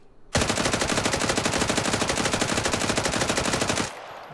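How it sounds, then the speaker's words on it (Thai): A fully modded TS5 rifle fires in Arena Breakout, one unbroken rapid automatic burst of about three and a half seconds, loud and close, stopping abruptly. "รู้สึก TS5 จะยิงนิ่งกว่าเนี่ย"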